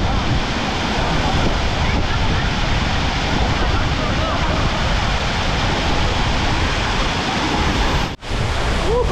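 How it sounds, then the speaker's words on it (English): Big waterfall on the Ayung River in Ubud, Bali, seen while river rafting: a steady, loud roar of rushing, crashing water filling the whole clip, up close and unbroken except for a brief dip near the end. "this is big waterfall"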